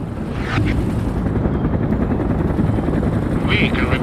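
A heavy attack helicopter, an Mi-24, flying in the game World in Conflict, giving a loud, steady rotor and engine roar throughout, with a voice speaking briefly over it.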